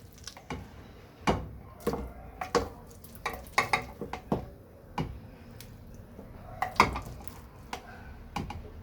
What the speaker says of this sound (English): I'm adding the corn.